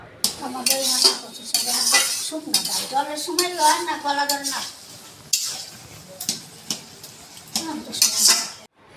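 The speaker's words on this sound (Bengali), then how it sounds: "এই যে কচু শাকটা লাস্ট চলছে একটু ঘেটে দেওয়া।" Taro leaves cooking with hilsa fish head in a pot, stirred with a metal utensil: clinks and scrapes against the pot over a light sizzle, with someone talking over much of it.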